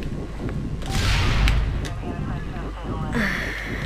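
A grenade goes off in the Watch Dogs video game, a loud booming blast that swells near the start and rumbles for about a second amid other game noise and gunfire-like cracks, with a voice talking over it.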